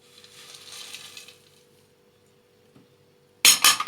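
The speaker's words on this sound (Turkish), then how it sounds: "Sonra cevizimi döküyorum." Walnuts tipped into a bowl for a summer cake, a sudden loud clatter of hard pieces landing in a short burst near the end, after quiet rustling and a faint tap.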